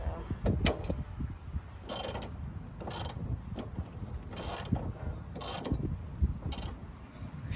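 A ratchet tightens a body lift bolt on a Ford Bronco fitted with a 1.5-inch body lift, giving a series of short clicking bursts spaced about a second apart, close and fairly clear against quiet background.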